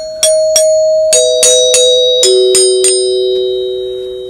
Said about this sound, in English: you have the three solenoids that strike the bars